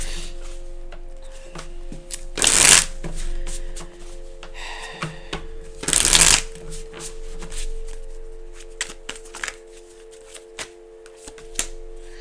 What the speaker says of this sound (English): I'm gonna grab a couple of cards.